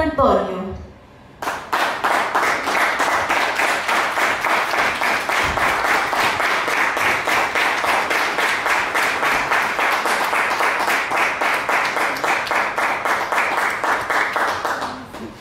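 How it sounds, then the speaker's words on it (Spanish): An audience claps at length to welcome the performer to the stage at a live classical concert in Algarrobo, a dense, sustained round of applause that starts after a brief pause and holds steady to the end. "le pedimos un fuerte aplauso para recibir en este escenario a"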